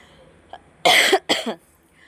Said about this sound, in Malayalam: ചുമയാണ് കേട്ടോ